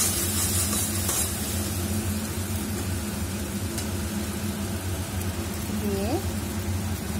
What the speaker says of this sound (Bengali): তারপরে দিয়ে দিচ্ছি শিম বাটা। শিম বাটাটা দিয়ে ভালোভাবে নাড়িয়ে নেব।